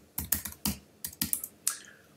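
Keys tap on a computer keyboard as a password is typed, about nine crisp, close strokes in an uneven rhythm, with no talk.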